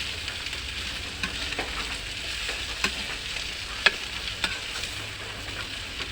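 Jackfruit and dried anchovies sauté in a hot pan, a steady close sizzle and crackle with occasional sharp pops and stirring scrapes.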